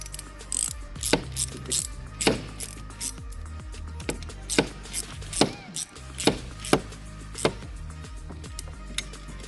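A ratchet retightens bolts while a reverse light kit is installed on a Polaris General UTV, giving bursts of quick clicking strokes in an irregular rhythm, close and fairly faint.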